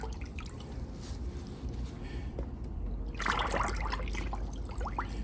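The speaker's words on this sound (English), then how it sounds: "I got some towels I'm gonna soak." Water drips and trickles from towels being soaked for a rinseless car wash, a faint close patter over a low steady hum that grows busier partway through.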